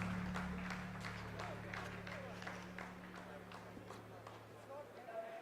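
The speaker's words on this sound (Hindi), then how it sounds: "जी हाँ, आप इस तालियों के गड़गड़ाहट को सुन सकते हैं" Sustained applause from a room of scientists at mission control during the Chandrayaan-3 lunar landing, a dense steady patter of many hands clapping with crowd noise and a low electronic hum underneath.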